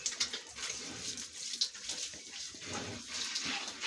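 Water hoses against surfaces while a pig pen is washed, a close, fluctuating spray hiss that runs unbroken throughout.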